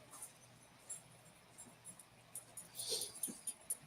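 A female puppy whimpers in soft, high-pitched whines. They come as short, faint bursts that cluster and grow slightly louder toward the end.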